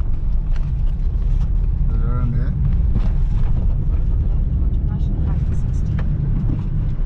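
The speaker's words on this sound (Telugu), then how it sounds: "ఫుల్ ట్రాఫిక్, వెళ్ళే వెహికల్స్ వచ్చే వెహికల్స్" Heavy two-way holiday traffic on a highway near a ghat road produces a steady, loud roar of passing vehicles mixed with wind buffeting, while someone talks over it.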